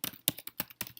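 Computer keyboard keys clatter in a brief burst of five or six crisp strokes, close and distinct, with no voices.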